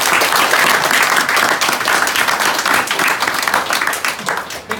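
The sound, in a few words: audience applause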